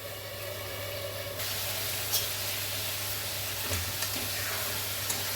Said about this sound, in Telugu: వీటిని సిమ్లో పెట్టి వేయించేసుకుందాం మంచిగా.